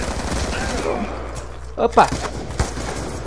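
Gunfire in Call of Duty Black Ops II on the Aftermath map in demolition mode, a dense rattling fusillade with a few sharper bursts near the end, heard under a player's voice talking throughout.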